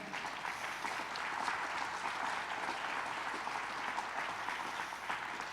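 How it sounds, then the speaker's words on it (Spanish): A church congregation claps together during a Spanish-language service, producing a sustained, evenly loud wash of applause that continues without break for several seconds, with no speech on top. "Dele un aplauso al Señor."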